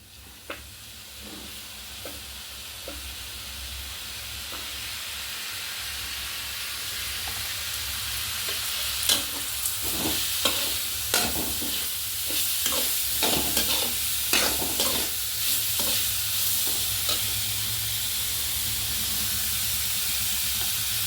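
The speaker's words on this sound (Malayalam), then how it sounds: "ഇനി അതിലേക്ക് വെളിച്ചെണ്ണ ഒഴിക്കാം." Coconut oil sizzles steadily in a hot pan while a vegetable curry is prepared, with repeated scraping and stirring strokes growing busier over the continuous frying hiss.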